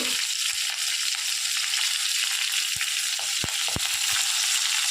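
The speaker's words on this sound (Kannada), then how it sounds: "ಸ್ವಲ್ಪ ಫ್ರೈ ಆಗಲಿ ಬೆಳ್ಳುಳ್ಳಿ" Crushed garlic, red chili and curry leaves frying in hot oil with mustard seeds for a green moong dal tadka, a loud continuous sizzle with a few sharp pops and spatters near the end.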